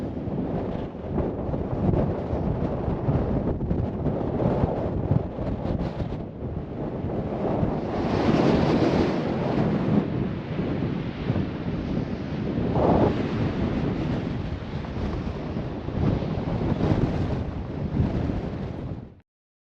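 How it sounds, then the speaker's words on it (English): Strong wind roars at the Bunda Cliffs on the Nullarbor coast, a loud continuous buffeting rush with surging gusts and a distant ocean-like swell, alone without voices until it cuts off abruptly. "too windy for the drone unfortunately"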